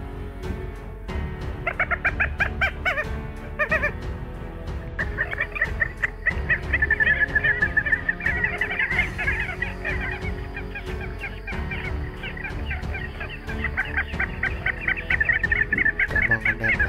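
Recorded call of a white-breasted waterhen, loud repeated harsh clucking and honking notes in rhythmic bursts, close and continuous for the whole stretch with no talking.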